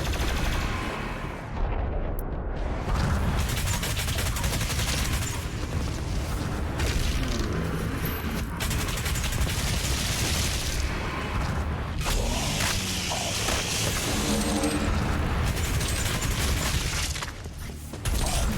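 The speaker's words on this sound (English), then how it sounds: "I'm still firing away at this turret" Dense, continuous turret gunfire in Doom Eternal: The Ancient Gods Part 1, rapid shots and booms with whooshes and mechanical clatter layered into a loud, unbroken barrage.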